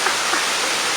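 Rushing water at Banyumala Waterfall in Bali, a steady broadband roar that stays loud and unbroken for the full second with no voices.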